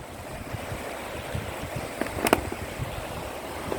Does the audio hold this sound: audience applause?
no